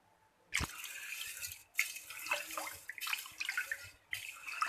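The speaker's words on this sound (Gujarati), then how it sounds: "આવી રીતે આપણે બેથી ત્રણ વાર ધોઈ નાખશું ચોખાને" Water sloshing and splashing in bursts, with drips and swishes as grains are rubbed and rinsed by hand, close up and fairly quiet.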